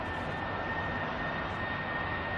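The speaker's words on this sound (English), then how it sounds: "lots of BA Airbus A320s departing" A British Airways Airbus A320 jet departing, a steady broadband engine roar with a faint high whine, continuous and moderately distant with no voices.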